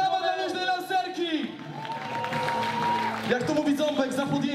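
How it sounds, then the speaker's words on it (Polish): Applause and cheering from a crowd at a car enthusiasts' meet in Tarnobrzeg rise under lively voices and shouts, with a steady clapping wash beneath overlapping chatter and whoops. "Brawa dla Luźnej Lancerki!"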